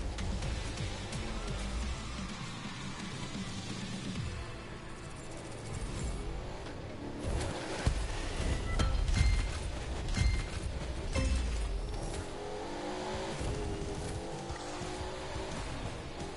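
A minivan races in The Crew 2 with its engine accelerating and revving continuously, a low rumble mixed with tire squeal and swells of louder roar throughout.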